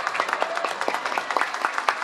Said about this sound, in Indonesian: tepuk tangan untuk Kundo Praneso